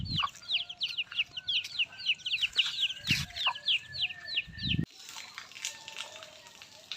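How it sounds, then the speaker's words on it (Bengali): A mother hen clucks repeatedly near her chicks in a village yard one morning, with rapid high peeping from the chicks running through the first few seconds before the calls thin out. "কত সুন্দর মুরগিটা, বাচ্চাগুলো কত সুন্দর।"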